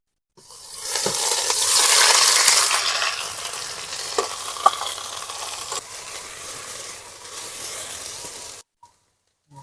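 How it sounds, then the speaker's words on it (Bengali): Loud sizzling of ground bottle gourd leaf paste frying in hot oil with dried red chillies, scraping stirring sounds, fading into silence at the end. "ভালো করে এটা তেলের সঙ্গে ভালো করে নেড়ে ভালো করে ভেজে নেবো"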